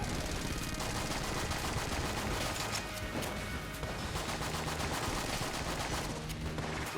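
A test gun in Enter the Gungeon sprays assorted bullets, cannonballs among them, as a dense, unbroken barrage of overlapping shots that stays loud and constant from start to finish.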